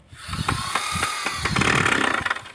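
Power drill whirring at close range as an elderly man works on a homemade wooden box, the motor revving in repeated bursts with knocking and scraping between them.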